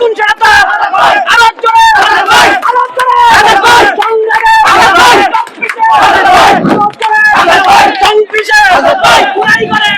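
A large crowd at a night victory procession for a candidate outside the NCP office in Debidwar, chanting political slogans in loud, rhythmic bursts of massed voices that rise and fall close by, with continuous cheering and babble throughout.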